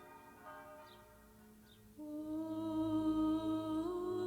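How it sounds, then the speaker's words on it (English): Church bells ring out at the Church of the Holy Sepulchre, a sustained resonant peal that swells in at two seconds and carries on steadily, moderately distant with no talk over it. "400 yards away, the bells ring out at the Church of the Holy Sepulchre"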